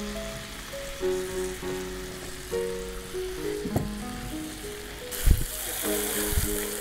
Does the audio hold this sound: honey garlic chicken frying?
yes